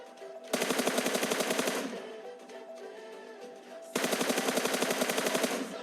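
Two sharp bursts of rapid automatic gunfire in a PUBG match, each lasting over a second, separated by a quieter stretch of game ambience with faint tones, and no talk.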